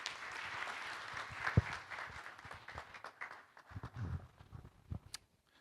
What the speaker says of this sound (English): A big round of applause for the team here.